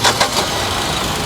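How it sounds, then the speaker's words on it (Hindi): A Tata Nexon petrol car with a BS6 phase 1 engine turns over and catches, giving a few short bursts before settling into a steady idle heard up close. "फ़र्क है इंजन नॉइज़ के अंदर, बिल्कुल साफ फ़र्क है भाई जब गाड़ी स्टार्ट हुई"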